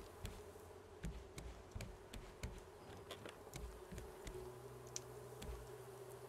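Bees buzz in the Raft survival game, a low steady drone running under repeated faint clicks and taps of gameplay, moderately quiet throughout.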